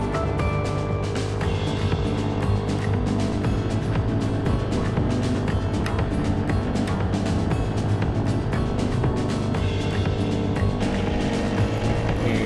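A homemade two-horsepower motorized SUP board, a stand-up paddleboard that splits into sections, planes at high speed across the water with its small outboard engine droning loud and steady throughout, and water rushing beneath it.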